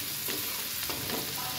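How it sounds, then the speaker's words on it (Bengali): Eggplant pieces fry in hot oil seasoned with turmeric and salt, giving a steady, close hiss and sizzle that holds evenly throughout with no voices. "বেগুনগুলো খুব ভালো করে ভেজে নেব।"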